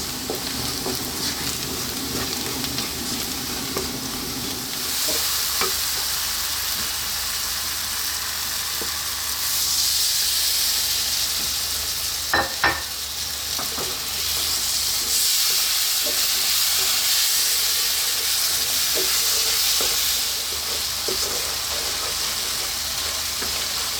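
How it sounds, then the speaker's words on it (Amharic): Berbere spice frying in a pan for an Ethiopian stew, a steady close sizzle and hiss with occasional stirring scrapes and clicks throughout, no voices. "እሺ ይኸውላችሁ በርበሬ የተጠበሰ 5-6 ደቂቃ ብያችሁ ነበር"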